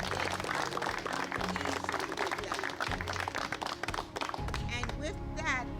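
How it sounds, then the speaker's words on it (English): A crowd applauds at an outdoor charity event at a calisthenics park, dense and sustained clapping that fills the whole stretch, with voices and cheering mixed in toward the end. "He deserves a round of applause for that."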